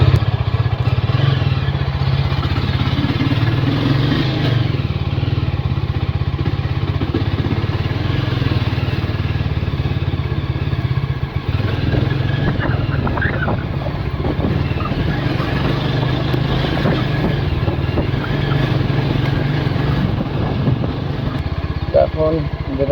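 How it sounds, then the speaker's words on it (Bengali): A Yezdi Scrambler motorcycle engine, unstarted for two days, idles and revs steadily, loud and close, with a low rumbling drone throughout and occasional voices in the background. "দুদিন বাইকটা স্টার্ট করেনি তো সেজন্য একটু"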